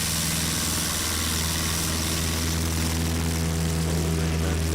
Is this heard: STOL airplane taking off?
yes